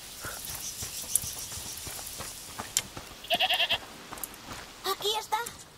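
A goat bleats a few times in the video game A Plague Tale: Requiem, amid a busy soundscape of clicks and footsteps, with a brief pulsing tone in the middle.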